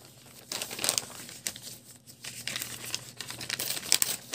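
A paper junk-mail envelope is torn and crinkled open by hand, giving irregular papery rustles and rips that come in short bursts and pauses, close up and fairly quiet, with no talking.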